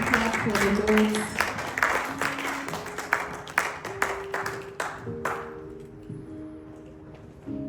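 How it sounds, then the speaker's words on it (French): Church congregation applauding as a sister is welcomed forward to lead prayer, a dense wash of clapping with music or voices beneath, gradually thinning into scattered, separate claps toward the end. "Clap for the Lord."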